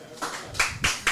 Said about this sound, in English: I want y'all to give a standing ovation, a hand clap to the man himself